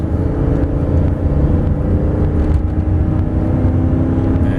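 A 2003 Dodge Ram 1500 pickup truck engine roars loudly and continuously as it accelerates from 50% to about 80% throttle, its rumble climbing and pushing harder over several seconds.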